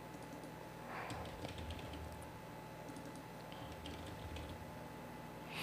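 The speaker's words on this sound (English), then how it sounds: "I'm pretty much just typing on this template that's already been set in place." Faint, steady typing on a computer keyboard, with soft, irregular key clicks repeating over a low background hum and no voices.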